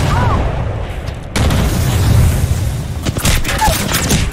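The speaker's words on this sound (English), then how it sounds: "Grenade!" Loud gunfire and booming blasts in a shooter video game, including a grenade detonation: a sustained rumble gives way to a sharper burst of fire and then a flurry of crackling shots near the end.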